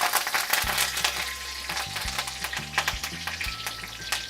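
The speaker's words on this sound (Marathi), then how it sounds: "तेल बघा आता गरम झालेलं आहे, त्याच्यामध्ये बघा अर्धा चमचा जिरे" Cumin seeds and curry leaves sizzling in hot oil for a paneer and capsicum sabji, a continuous close crackle with sharp spitting pops throughout.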